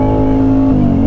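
Aprilia RS660 motorcycle engine revving up close, a loud steady high-pitched drone with a rising tone through the whole brief burst, no voices.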